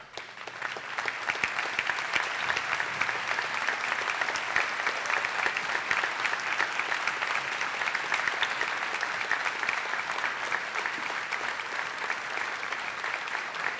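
A large audience applauds police department members at a public safety promotion and swearing-in ceremony. The clapping is dense and sustained, holding steady for about fourteen seconds with no break.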